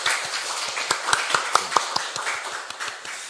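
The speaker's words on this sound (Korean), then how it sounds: "박수 한번 하시죠." A church congregation claps together in a brief round of applause, a scattered patter of many hands with a few sharper nearby claps, moderately loud in the hall.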